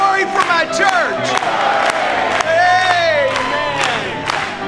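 Church congregation shouting and cheering in praise, many voices whooping and calling out together in a loud, continuous swell, with sharp claps and cries scattered through.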